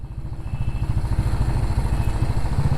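Motorcycle engines idle and rumble together at a gathering of many bikes in Rudraprayag, a steady, loud, pulsing low drone with clattery texture throughout, no voices.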